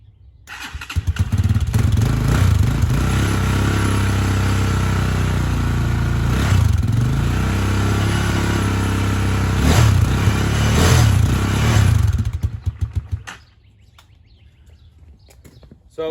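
A Honda Hawk 250 motorcycle engine starts and runs at a steady, loud idle for about twelve seconds, burning oil on startup, then cuts off abruptly into quiet.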